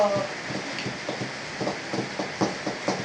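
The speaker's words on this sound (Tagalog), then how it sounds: "ayun po ay umuulan" Steady rain hisses continuously in the background while people talk faintly nearby.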